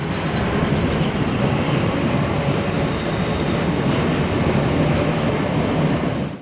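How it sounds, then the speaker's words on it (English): Train running past near Dalreoch station on the Helensburgh line, a loud, steady, close rumble with rail noise filling the whole stretch before cutting off abruptly. "you can capture trains either entering the station or leaving from the Dalreoch branch"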